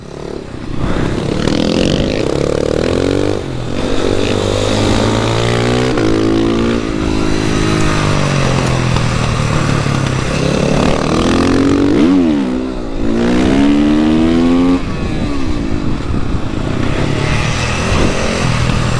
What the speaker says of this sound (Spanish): esta moto es muy divertida.